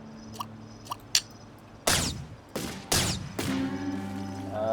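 Heavy booming shots from a 3-pounder cannon in the TerraTech video game, three loud blasts about half a second apart with ringing decay, after a few faint smaller taps.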